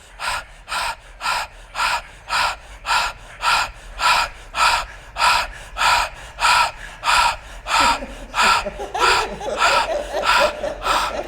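Heavy rhythmic breathing is done as an exercise, with about twenty loud, close, evenly spaced sharp breaths that run into rougher, noisier breathing near the end.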